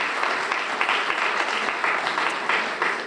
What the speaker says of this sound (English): give Mary and her staff a round of applause